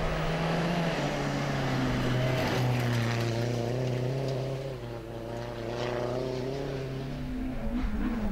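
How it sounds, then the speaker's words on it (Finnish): A Ford Fiesta rally car engine howls at speed during a rallysprint stage, holding a loud continuous drone whose pitch slides up and down through gear changes, heard alone without voices. "Juha-Pekka Pesonen laulattaa fiestaansa 9-luokan nopeinta kyytiä."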